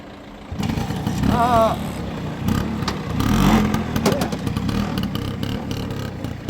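A small motor scooter engine revs up and down, buzzing nearby with fluctuating pitch, while voices talk over it.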